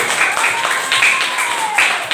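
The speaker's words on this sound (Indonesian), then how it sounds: "Tepuk tangan." Brief, moderately loud applause from a class during a teaching-practice lesson, a burst of clapping that surges and eases over about two seconds without talk.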